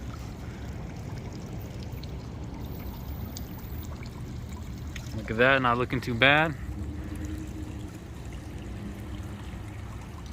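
An outdoor fountain flows in a steady, even wash of water throughout, and someone speaks briefly over it near the middle.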